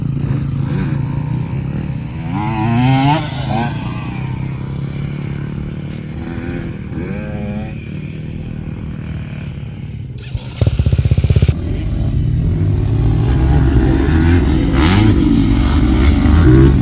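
Motocross motorcycle ripping around a dirt track, its engine loud and close, revving and rising in pitch in repeated surges, then a sharp blast of throttle before settling into a sustained hard drone.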